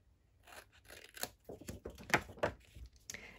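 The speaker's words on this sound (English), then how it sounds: "Just going to trim this off a little bit." Paper being trimmed while making a fold pocket flipbook for handmade mail, with a series of soft crisp cutting and tearing sounds, close and fairly quiet, several short bursts clustered toward the end.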